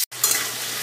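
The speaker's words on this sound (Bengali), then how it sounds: "গাঁঠি কচুগুলো ভাজা হোক" Small taro corms fry in hot oil, giving a steady close sizzle with a brief stirring scrape near the start.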